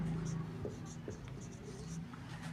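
Chalk or marker writing on a board during a chemistry lecture, soft scratchy strokes in short bursts close by, with faint room noise and occasional murmur beneath.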